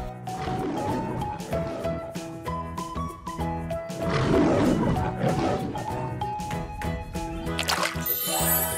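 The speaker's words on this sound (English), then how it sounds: "This is a lion." A lion gives a loud, deep roar in a few long surging bursts over a busy music backing, with the roars swelling and fading through the passage.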